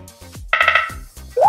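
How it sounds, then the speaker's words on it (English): A futuristic smartphone ringtone on a Nothing Phone plays a short electronic melody of bright, pulsing synth tones, ending on a rising chirp, loud and close with no talk. "If you wanna switch out the ringtone, you're also gonna be switching out the light pattern."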